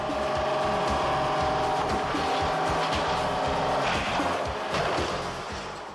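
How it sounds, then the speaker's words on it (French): A stunt car launched off a bus fitted with a roof deflector, making a near-horizontal jump; a loud, continuous engine roar with harsh tire noise holds steady throughout, then eases slightly at the end. "On projette l'avant de la voiture pour qu'elle accomplisse un saut à peu près horizontal."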